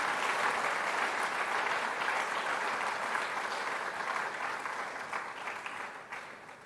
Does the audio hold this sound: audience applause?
yes